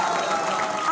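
Studio audience applause for guests arriving on an Indian political debate show: a brief, steady wash of clapping heard close.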